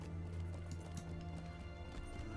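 Goat mount hooves clip-clop in The Lord of the Rings Online, a steady rhythmic trotting over a constant hum of game music and ambience, moderately loud throughout.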